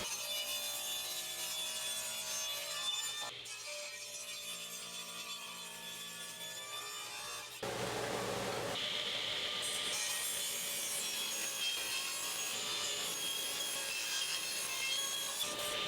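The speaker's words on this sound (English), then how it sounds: "I cut my stock to width to match everything I had done with my test pieces," Wood stock for tapered table legs is cut on a saw with a taper jig, a steady loud whining cut with humming tones, a brief pause, then another sustained cut, with no voices.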